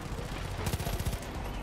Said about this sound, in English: That's some good shooting.